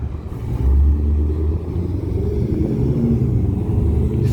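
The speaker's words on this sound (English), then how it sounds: "Oh yeah, that's a race car right there." A deep, steady race car engine rumble, a C6 Corvette with an LS3 V8, holds close and loud throughout, with a low throaty drone that swells slightly early on, no voices.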